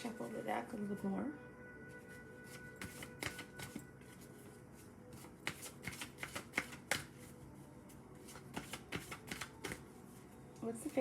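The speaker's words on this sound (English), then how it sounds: "I'm going to shuffle the deck a little more." A deck of tarot cards being shuffled by hand, soft riffling flutters and repeated light card snaps close by, quiet and irregular, with the riffle strongest at the start and scattered taps after.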